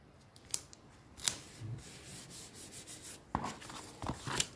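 Overhanging paper being trimmed from a junk journal page, a few close, quiet snips and rubbing, scraping sounds spread irregularly across the clip.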